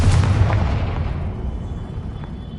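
A Confringo explosion spell in a Hogwarts wizarding video game lands as a heavy, rumbling boom up front, then fades into a long, smoky decay.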